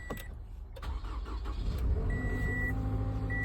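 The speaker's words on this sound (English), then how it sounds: "We got the Camry up and running." A Toyota Camry that has sat unused for a long time idles after a hard cold start, its engine running as a steady, close, moderately loud rumble with a faint whine, heard alone.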